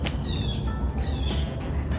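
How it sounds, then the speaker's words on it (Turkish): Birds chirp outdoors in a New Jersey garden, with thin high twittering calls drifting over a steady close rustle and hum of background noise, no voices present. "Kuşlar ötüyor, birds are chirping."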